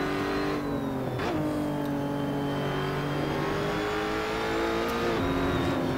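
Lotus Evora engine in the racing game Assetto Corsa at Laguna Seca, revving hard and loud through gear changes with the pitch climbing, dipping at each shift and climbing again, close and continuous with no talk.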